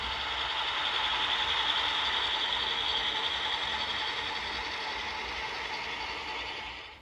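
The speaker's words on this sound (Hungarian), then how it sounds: "A lassú menet megfelelő, és már egészen kis sebességnél is elegendő a vonóerő." A PIKO MÁV M44 model diesel locomotive creeps slowly along, giving off a steady, even mechanical whir and hum of its motor and gears, close by and unbroken, with no voices.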